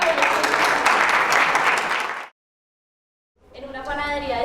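Audience applause during a collective storytelling event, loud dense clapping for about two seconds that cuts abruptly to silence, followed by a nearby voice speaking.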